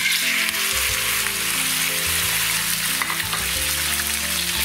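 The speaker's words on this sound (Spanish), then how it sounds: "Frío la carne, le he puesto un poquitín de sal." Rabbit meat with a pinch of salt frying in a pan, giving a steady, close, dense sizzle that crackles continuously without pause and with no voices over it.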